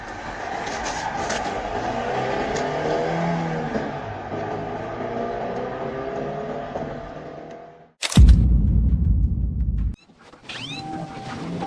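A car on a dashcam police chase accelerates away with a steady engine drone, then a sudden loud burst of low roar for about two seconds, followed by quieter road noise.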